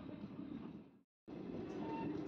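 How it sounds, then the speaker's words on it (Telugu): Aurangabad Express passenger train pulling out of Arepalli station, a steady loud rumble of rolling wagons that cuts out for a moment, then resumes. "ఆరేపల్లి నుంచి అయితే మన ట్రైన్ స్టార్ట్ అయింది."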